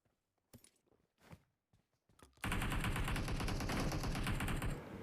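Sustained automatic gunfire in PUBG Mobile, a teammate coming under fire from a nearby house: a dense, loud burst of rapid shots begins partway through and continues steadily, preceded by a few quieter footsteps and thuds.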